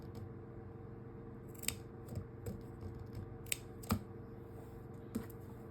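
Scissors snip thread ends on sewn cloth doll bodies, giving several small, crisp, close cuts spaced irregularly over a low steady background hum.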